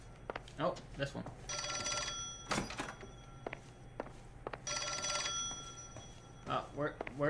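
A telephone rings twice in the L.A. Noire Remastered video game, each bright electric ring lasting about a second, set among sparse game sounds and a few dull thuds, with talk around the rings.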